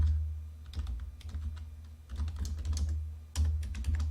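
Computer keyboard typing an Excel ribbon shortcut (Alt, H, A, L), with quick clustered key clicks in short bursts, close and fairly quiet, over a low steady hum.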